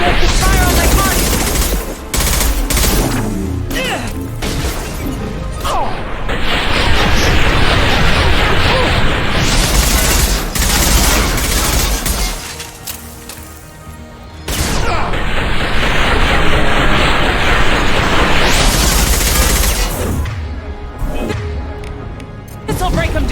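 Dense, loud gunfire in the Mass Effect 2 video game, with rapid automatic bursts, booms and blasts overlapping nearly continuously, game voices calling out over the combat, and a brief lull midway.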